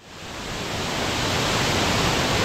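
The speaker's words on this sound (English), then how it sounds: "The waterfall was worth the hike" Waterfall near Cusco, a steady broadband roar of falling water that swells in over the first moment and then holds constant and close, with no voices.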